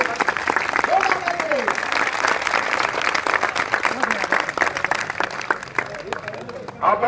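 Crowd at a political rally in Uttar Pradesh applauds steadily with dense, sustained clapping, loud and continuous throughout, tapering slightly at the end.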